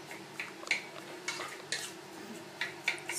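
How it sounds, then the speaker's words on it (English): Chopped onions stirred into a pot with a utensil while cooking Greek youvetsi with beef, giving a series of light metallic scrapes and clinks against the pot at an uneven rhythm, close and fairly quiet. "Stir that up, kind of coat the onions once again, just like we did with the beef."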